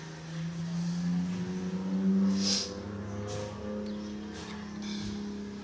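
A drift car's engine revs loudly and steadily during a run at a Cyprus drift championship practice, a sustained droning note that holds, then eases slightly, heard from a distance with faint tire noise.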